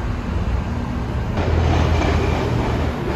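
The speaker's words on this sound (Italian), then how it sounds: "Stazione centrale e metro 2" A Milan metro line 2 train at Central Station gives off a loud, steady rumbling roar that swells slightly midway, with a constant high whine and no voices.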